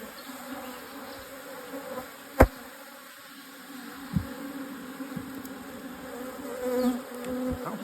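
Honey bees buzz around an open hive during an inspection, a close, steady drone with individual bees passing near, plus a few sharp clicks and knocks from hive handling.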